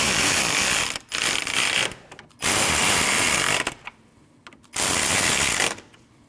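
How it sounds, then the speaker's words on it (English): A hand ratchet tightens three 10mm bolts at the radiator of a 2003-2008 Subaru Forester 2.5L. It gives three loud, close bursts of rapid clicking, each about a second long, with brief quiet gaps between them. "Tighten all 3 10mm bolts."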